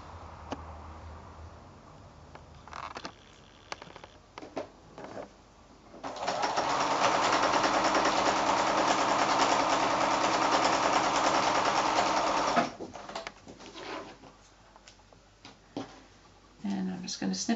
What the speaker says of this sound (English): So just a 1/4-inch seam allowance, just sew all the way down through all layers.